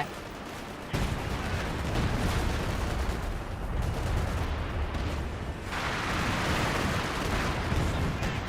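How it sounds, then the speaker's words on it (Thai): Continuous heavy booming and rumbling of artillery fire in the video game Company of Heroes 2, thick overlapping blasts with no pauses, fairly loud throughout. "ดูโยนปืนใหญ่กันรัวๆเลย"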